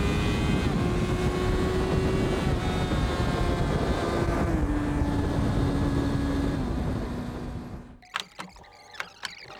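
Close, loud engine whine and wind roar from a 250cc motorcycle overtaking a car, pitch rising and shifting through gears before cutting to quieter scattered sounds at the end.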